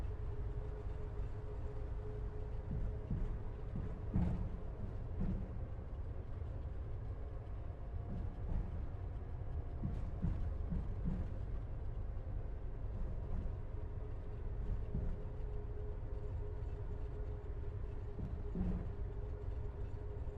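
Twin engines of an A2A Aerostar aircraft in a flight simulator game hum as a steady, moderately quiet low drone with faint knocks.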